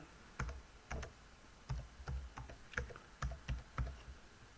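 Keys tapped on a computer keyboard while a password is entered, a close, quiet run of irregular clicks in short bursts with brief pauses, no voices.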